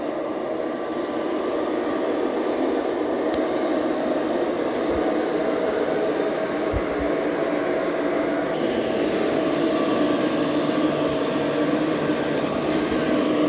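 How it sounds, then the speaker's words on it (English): An ECOVACS DEEBOT T20 Omni robot vacuum and mop running at home, with a loud, steady, close suction whir that holds even for the whole stretch, with no talk. "I love when we can see the stuff being vacuumed up."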